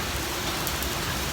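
Heavy rain pours steadily outdoors, a dense, even wash of drops on surfaces with no gaps, fairly close and moderately loud, with no voices.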